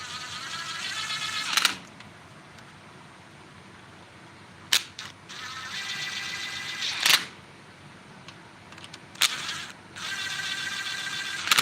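Engine bolts on a Kawasaki FE290D being snugged up by hand before torquing, heard as a few sharp metallic clicks and ratchet taps spaced over a steady low background hiss, close and fairly loud, with no talking.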